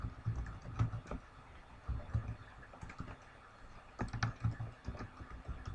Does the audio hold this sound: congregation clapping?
no